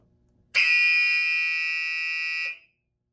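A Silent Knight 5204 fire alarm panel's signal circuits sound in a test, giving one loud, steady electronic alarm tone that holds for about two seconds and then cuts off, with no voices.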